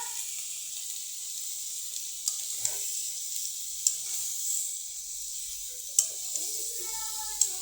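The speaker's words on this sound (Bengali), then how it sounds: "এখন ভালো করে তরকারিটা লাড়াচাড়া দিয়া আমার মশলাটা মিশামো।" Fish curry with spices is stirred in a hot pan, giving a soft continuous sizzle and hiss broken by a few sharp spoon taps against the pan, close by and without speech.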